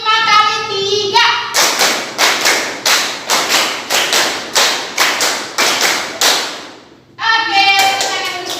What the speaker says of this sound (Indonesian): Tepuk 5 kali 3.